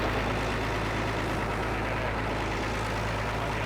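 A ten-wheel truck engine runs steadily with a deep low rumble, idling or lightly revved, continuous and close throughout.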